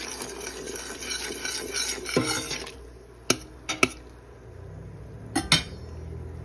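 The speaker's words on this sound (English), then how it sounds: "I'm going to stir a little bit." Corn pudding batter of grated corn, coconut milk, cinnamon and nutmeg stirred in a pot, a steady close scraping rasp for about two seconds, then quieter with a few sharp utensil knocks against the pot.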